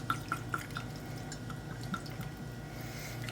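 Orange flavored vodka trickles and drips into a glass for an orange crush cocktail, a soft close liquid patter with a few bright plinks at the start over a low steady background hum.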